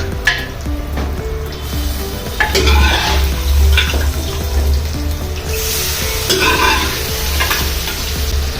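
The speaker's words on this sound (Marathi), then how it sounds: "आपला मसाला आता चांगला मी तेलात परतला आहे आता मी हे मटण यात सोडते" Loud close sizzling as mutton is stirred in hot spiced oil, with scraping and clattering of a spoon against the pan.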